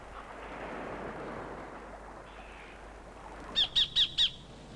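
A sacred kingfisher calls four sharp, evenly spaced notes in quick succession, loud and close, over a steady wash of shore or forest ambience.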